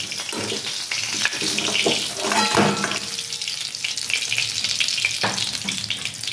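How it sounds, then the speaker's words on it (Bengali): Pieces of bata fish fry crisply in hot oil, giving a steady, fairly loud crackling sizzle with scattered pops and spatters throughout and no voices. "দেখুন মাছটা আমি এইরকমভাবে ভেজে নিয়েছি।"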